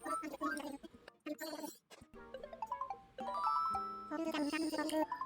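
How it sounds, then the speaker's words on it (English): A phone call rings in the Animal Crossing: New Horizons video game as a bright, chiming electronic jingle of stepped melodic tones, starting and stopping over game music and blips. "Hold the phone, someone's calling."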